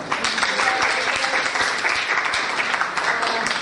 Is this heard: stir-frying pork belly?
no